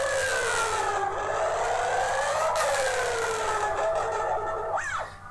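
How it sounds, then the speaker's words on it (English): The side of a guitar pick scrapes slowly across three strings of a distorted electric guitar, making one long, loud, siren-like sweeping whine that bends up and down for about five seconds with no talking. "The first one we do is just for pick scraping across them 3 strings."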